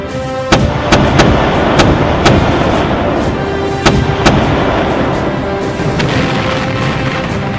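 Rapid volley of ship's cannons firing amid a sea battle, several sharp booms in quick succession over a dense roaring rumble, loud and close.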